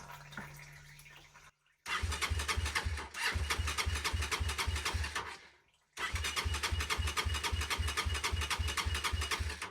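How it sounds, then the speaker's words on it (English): A GPX FSE250e EFI motorcycle engine is turned over by the starter in two long bursts of rhythmic cranking separated by a short pause, close and loud, without firing. "we'll switch the ignition back on, turn the engine over and just get the oil pump so it's pumping out"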